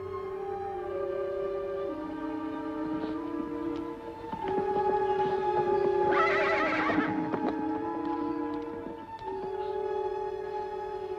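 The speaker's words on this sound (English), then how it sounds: "What about those horses" Horses neigh and whinny loudly over a sustained musical score, with one prominent rising whinny in the middle and faint hoof clip-clop beneath, no talk.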